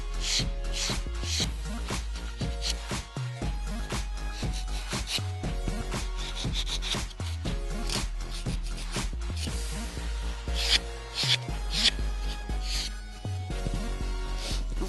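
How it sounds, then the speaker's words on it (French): White buffing block files the grooves of a fingernail in quick, regular back-and-forth rasping strokes, close and soft, continuing steadily with short pauses between strokes. "Je prends le bloc blanc pour affiner les rainures de l'ongle"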